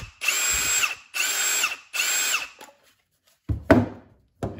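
Ryobi P238 brushless impact driver at speed three, three close, loud bursts of whining motor and rapid hammering, about a second each with short gaps, followed by handling clatter.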